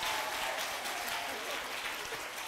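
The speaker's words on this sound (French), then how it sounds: "Ceux qui sont pour l'inspecteur, applaudissez." A crowd at a televised competition applauds in support of the inspector, a continuous and loud wash of clapping that holds evenly throughout, with voices faintly mixed in.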